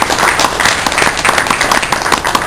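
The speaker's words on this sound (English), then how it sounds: "let's give these guys a little applause for that." Audience at an e-learning presentation on virtual worlds gives a short round of applause, a steady close wash of many hands clapping.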